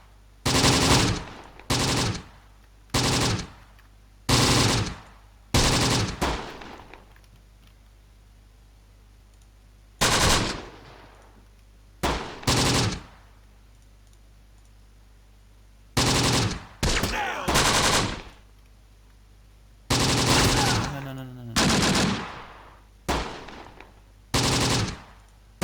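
Bursts of machine gun fire in the Close Combat war game come in short, loud, rapid volleys, often in quick pairs, separated by quiet pauses over a low background hum.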